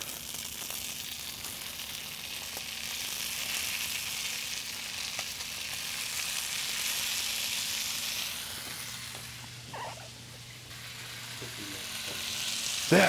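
Bacon sizzling in a pan, a steady, fairly faint crackling hiss that runs throughout with a few light clicks and a soft hum in the background.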